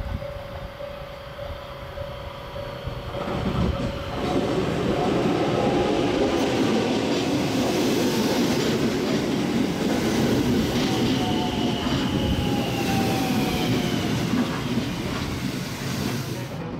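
A train on the Hokuriku Main Line, travelling from Shiga into Fukui Prefecture, rumbles steadily with wheel noise and a faint high squeal, growing louder and then holding constant.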